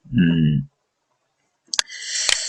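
A computer mouse gives a couple of sharp clicks while pressing the home button on the view cube in AutoCAD 2021, following a short bit of talk.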